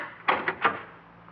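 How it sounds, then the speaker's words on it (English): A door is tried and opened in a study over a garage: three quick rattling knocks of the handle and latch close by, then a faint fading rustle. "I tried the door"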